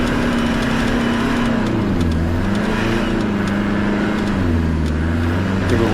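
A 4x4 off-road vehicle regains speed through fresh snow, its engine giving a loud, close, steady roar with a rising and wavering pitch as it accelerates, heard alone without talk.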